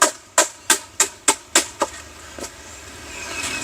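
Ingredients for a grilled chicken marinade pounded with a wooden pestle: a series of sharp, evenly spaced thuds, about eight strikes slowing toward the end, then quiet room tone.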